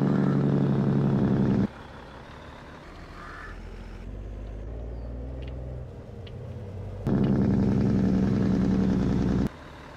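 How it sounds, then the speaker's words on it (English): A heavy truck's jake brake in Farming Simulator 22, a loud, rapid engine rattle that drops off to a lower idling drone, then returns with a burst of braking chatter before cutting out. "That's a beefy sounding jake brake"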